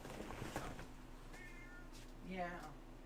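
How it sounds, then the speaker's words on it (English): A cat meows insistently, demanding attention, with a couple of drawn-out, rising-and-falling cries close by over a steady background hum, while someone speaks briefly near the start. "I'm going to go take care of the whiny cat."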